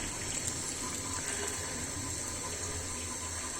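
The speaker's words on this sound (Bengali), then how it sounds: "পানিটা দিয়ে দিচ্ছি" Water pours steadily into a cooking pot with a continuous gushing splash that stays even from start to finish. No one speaks.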